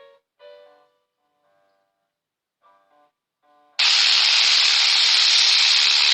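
Copper pipe being cut by hand with a saw, heard as a loud, steady, hissing rasp that starts abruptly after a few quiet seconds and runs without a break to the end.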